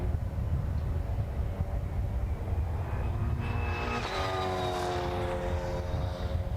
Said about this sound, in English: That didn't sound particularly like a car in trouble.